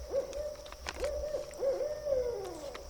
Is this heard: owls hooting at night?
yes